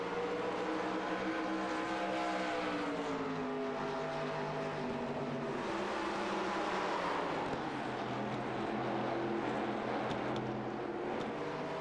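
Next Gen Old School Series stock cars racing at Rockingham, a loud, continuous engine roar with pitch rising and falling as the pack passes, steady throughout without pauses.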